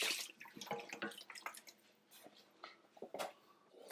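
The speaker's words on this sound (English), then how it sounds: "And now start adding in your broth, add a bit, and then mix." Broth is poured into a pot of chicken for a Moroccan chicken and chickpea stew, giving soft splashing and dripping with scattered liquid bursts, close and fairly quiet, with no talk.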